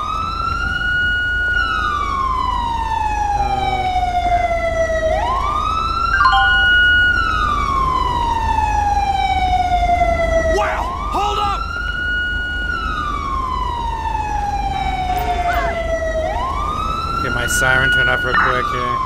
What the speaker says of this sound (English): Siren turn off real quick here.